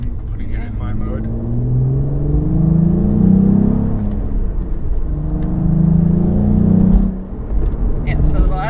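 A Cadillac CT4-V Blackwing engine hums steadily in sport mode with low rumbling tones that swell twice, under nearby conversation.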